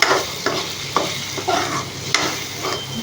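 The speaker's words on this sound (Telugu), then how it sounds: "వీటిని ఇలా స్మాష్ చేసుకొని రోజులు కలిపేసుకున్నాము" Fried eggs and onions get mashed and stirred in a sizzling pan, a close, loud sizzle broken by rhythmic scraping strokes roughly every half second, with no voices.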